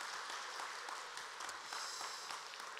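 Faint applause from a church congregation during a Sunday afternoon service, soft, steady clapping heard from a distance for a few seconds.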